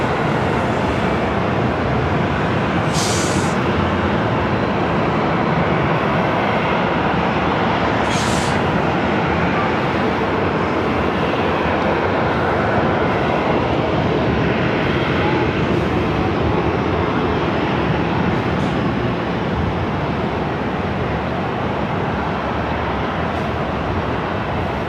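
Delta heavy jet taxiing at LAX airport, a continuous loud engine roar and whine with outdoor background noise and a few brief higher hisses, no talking.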